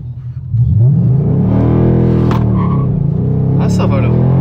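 A 2013 Ford Mustang GT Premium V8 launches from a standstill, its engine rising from idle into a loud, deep, rising roar that holds strong near the listener, with brief voices over it.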